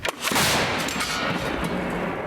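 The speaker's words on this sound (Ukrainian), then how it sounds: "Постріл!" A single heavy artillery gun blast booms loudly, followed by a rolling, fading echo.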